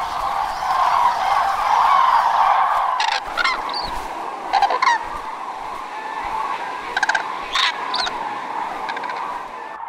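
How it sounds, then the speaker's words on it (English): Wild cranes calling in a flock, loud bugling honks over a steady rushing background, with several sharp bursts of calls clustered after the first few seconds. "cranes are perhaps Europe's most charismatic and spectacular birds"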